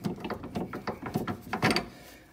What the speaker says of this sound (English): the washer is going to come off and the bolt will come off